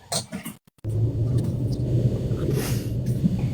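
Steady low rumble inside a moving car, filling most of the clip after a brief silent gap, with a faint voice over it at the start.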